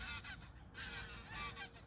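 Geese honk repeatedly and loudly at a carp fishing lake at Clearwater Fisheries, a close flock calling in overlapping bursts with no talk.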